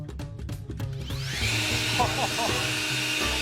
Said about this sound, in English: We have our leaf blower connected to a pipe and a big hole cut in the top with this box over it.